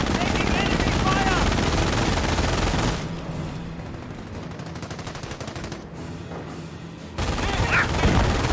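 Enemy gunfire in a WWII video game, dense rattling machine-gun bursts and shots, loud at first, then thinner rapid fire under voices, before the heavy firing returns.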